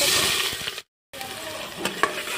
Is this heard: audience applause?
no